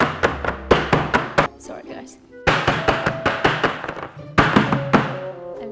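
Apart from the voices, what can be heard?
banging a cake tin to release air bubbles in batter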